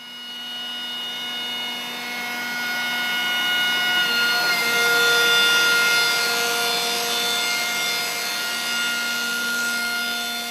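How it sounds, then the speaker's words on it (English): Vector Revolution 180 edge banding machine banding, trimming and scraping panels in one pass, a loud steady mechanical whine with sustained tonal hum that swells slightly midway, continuous and close. "with banding, trimming and surface scraping all performed in one pass"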